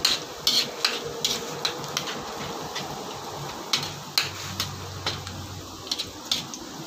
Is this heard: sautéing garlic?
yes